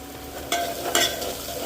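Leftover rice being tempered in a pan, a village-kitchen vaghar: a low steady frying hiss with two sharper bursts of stirring and sizzle close by, no voices.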